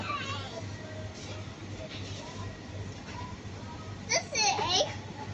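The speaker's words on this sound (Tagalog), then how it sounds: "kasi maingay yung mga bata" Noisy children playing nearby, with kid voices and squeals rising to a louder burst near the end, over steady background hum and indistinct chatter.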